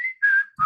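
A person whistles a simple tune live, three sustained clear notes with a brief gap between them, loud and close, with a faint low murmur under the last note.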